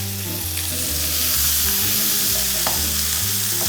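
Tomato and fried eggplant sizzle and crackle as they are stir-fried in a pan, a loud, continuous frying hiss with occasional stirring scrapes.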